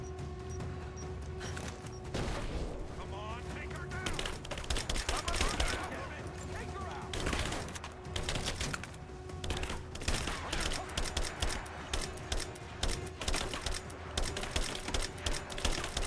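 AK rifle gunfire in Tomb Raider clatters in repeated rapid bursts across sixteen seconds, crisp and close, with the shots growing more regular toward the end, over a steady hum of game sound.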